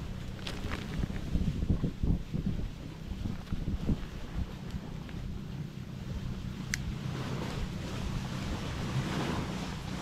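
Strong wind at sea near islands, roaring steadily with rumbling low gusts and surf, buffeting the microphone throughout without pause.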